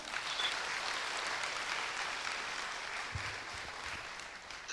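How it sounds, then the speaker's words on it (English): Steady, dense clapping from an audience at a thanksgiving service and birthday celebration, sustained at an even level throughout with a few faint voices beneath it. "one more round of applause"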